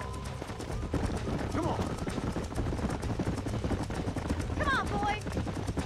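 Horses' hooves clip-clopping at a steady pace in the Western video game Red Dead Redemption, with a voice urging a horse on over them and a brief whinny near the end.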